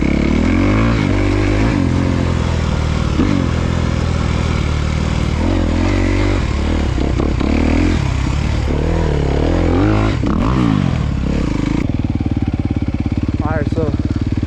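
2023 Honda CRF250R dirt bike engine revving hard and shifting while being ridden, loud and close throughout with repeated rises and drops in pitch, a rider's voice occasionally heard over it.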